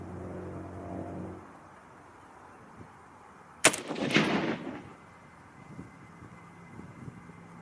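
A single sharp, loud shot from a Browning BBR bolt-action rifle in 25-06 Rem being sighted in outdoors, with a rumbling echo that dies off within about a second over faint background noise.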